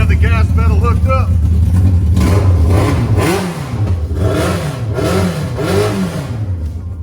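Engine of a homemade golf cart revs with the gas pedal in repeated rising and falling surges, loud and close, while people talk and cheer over it.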